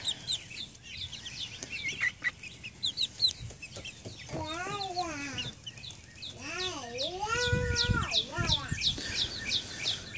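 Several seven-week-old chickens, including a rooster, cluck and call close by outdoors in a play yard, with a few rising, drawn-out squawks standing out over a busy background of bird chatter and faint talking.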